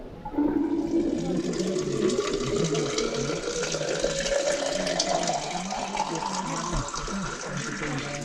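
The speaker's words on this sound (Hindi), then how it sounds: "इससे ये रॉक्स के बीच से पानी आया हुआ है" Water streams out from between rocks in a cave garden near Cherrapunji, Meghalaya, a steady close gurgling rush with a rising pitch as it flows, and people talk over it.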